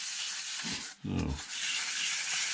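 An old crystal is sanded down ahead of turkey season, giving a steady, close, raspy scraping that fills the clip. There is a short break near the middle where a brief low sound cuts in.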